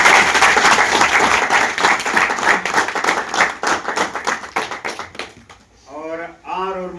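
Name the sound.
applause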